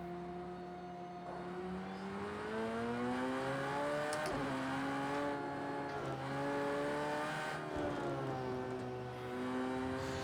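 A race car's engine in Project CARS 2 drones steadily at high revs, rising and falling through gear shifts with a slightly digitized tone and no talk over it.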